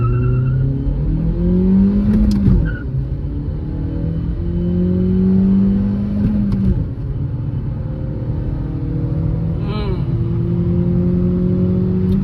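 A Volkswagen Polo 1.6 with manual transmission launches hard from inside the cabin, its engine note rising and falling through a few gear pulls as a steady, loud rumble.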